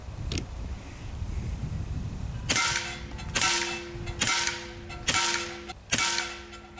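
Skout Epoch PCP air rifle fired rapidly, five sharp loud cracks about a second apart, each with a brief ringing tail, heard close with no voices.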